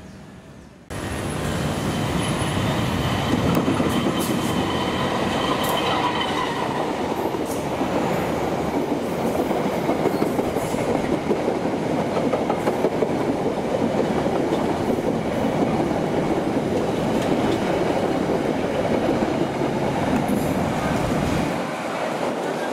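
A train rolls steadily through Klari railway station in Indonesia, a loud continuous rumble of wheels on rails with faint clacking, holding from start to near the end before cutting off.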